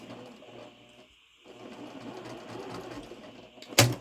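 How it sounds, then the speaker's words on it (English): A home sewing machine stitches slowly across quilt fabric with pins left in, giving a steady close mechanical whir that pauses briefly, then resumes and ends with a sharp click. "Please don't have a heart attack at home that I'm sewing over pins."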